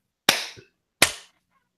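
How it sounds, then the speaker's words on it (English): Two sharp, loud claps from a small group of podcast hosts, close and dry. A faint second tap follows the first, then a short pause before the second clap. "That seemed like a clap."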